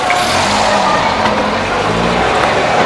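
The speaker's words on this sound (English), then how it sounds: "Little car." A small car passing along an Italian street, a loud steady engine rush with road and tire noise that holds evenly through the moment, close by and alone.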